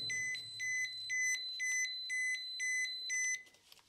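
A radiation dosimeter alarm beeps inside a 1950s uranium exploration adit, sounding seven regular, loud, shrill two-tone pulses close by before cutting off, with faint rustling afterward.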